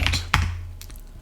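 Several sharp keystroke clicks on a computer keyboard, a burst near the start and a few lighter taps later, close and fairly quiet over a low background hum.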